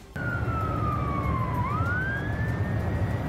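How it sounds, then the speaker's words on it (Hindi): A single siren wails nearby, its pitch sliding down and then climbing again, over low traffic-like rumble. "वहां काफी देर तक सायरन की आवाजें गूंजती रहीं"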